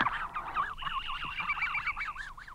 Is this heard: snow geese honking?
yes